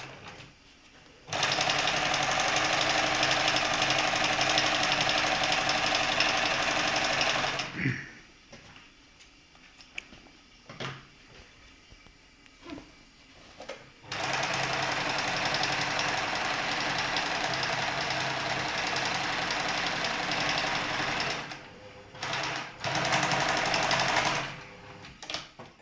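A sewing machine stitches pillowcase seams, running loudly and steadily in two long stretches with a quieter pause between them, then a few short bursts at the end.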